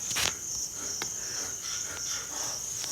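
Insect chirping close by, likely a cricket, with a sustained high-pitched trill that runs steadily under quiet background noise and a few faint clicks.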